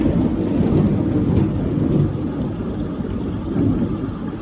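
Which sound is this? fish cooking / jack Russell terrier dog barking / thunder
thunder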